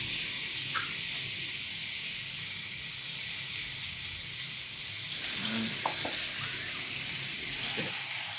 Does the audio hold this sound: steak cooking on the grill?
yes